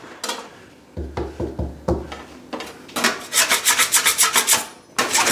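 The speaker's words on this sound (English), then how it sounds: "Give it a light scrape." A drywall taping knife scrapes drying joint compound on second-hand drywall sheets, giving loud, close, rhythmic rasping strokes with a quick series of short scrapes near the end.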